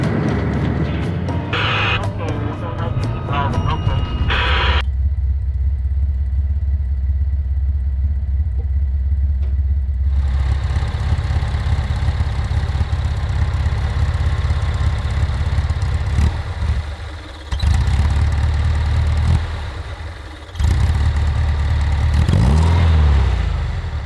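Kombi van engine with a stuck throttle position sensor runs loud and rough at first, then settles into a steady droning idle with a few brief dips and a final faint rev, all close up.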